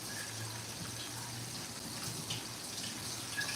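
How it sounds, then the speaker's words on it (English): Tap water runs steadily into a sink while lettuce is rinsed, a soft continuous splashing stream heard close and fairly quiet, with no talk. "So I'm just washing off my lettuce."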